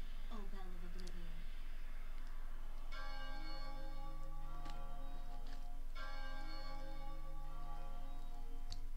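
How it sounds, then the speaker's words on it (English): A deep, resonant bell, the Bell of Oblivion in the video game Chocobo's Dungeon, tolls with sustained ringing overtones that swell and hang across the scene, layered over game music and faint background talk. "Ring far and wide, O Bell of Oblivion."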